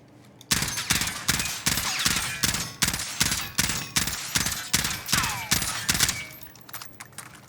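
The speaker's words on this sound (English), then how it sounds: "Welcome back to the No BS recoil test, where we have the M16 as well as the FFAR in Verdansk to test out that recoil." M16 rifle in Warzone, fired in a recoil test in Verdansk: a rapid run of about a dozen loud, evenly spaced sharp shots, close and dry, with no talking over them.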